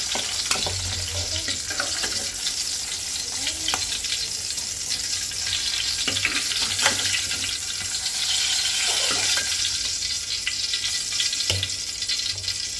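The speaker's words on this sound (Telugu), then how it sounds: "ఈ ఆయిల్ హీట్ ఎక్కిన తర్వాత గుత్తి వంకాయని ఇలా ఫ్రై చేసుకుందాము." Stuffed brinjal frying in hot oil, a dense continuous sizzle with occasional louder pops and bursts of spatter, close and fairly loud throughout.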